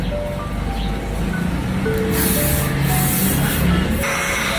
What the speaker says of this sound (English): I'll be using this wet block finishing spray from FBH to lock in everything